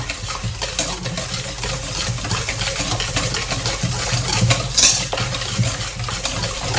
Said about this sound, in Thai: เราจะใช้ตะก้อมือนะคะ คนทุกอย่างให้เข้ากันดีค่ะ